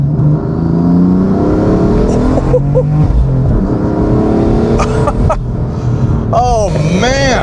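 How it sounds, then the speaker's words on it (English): A tuned 2016 BMW M3 F80 making 650 hp, fitted with turbos and an Akrapovic exhaust, accelerates hard nearby with a loud rising engine roar, turbo whistle, and gear changes, while people talk over it. "tons of whistle, tons of turbo noise, and that A-krap-o-vich exhaust sounds fantastic"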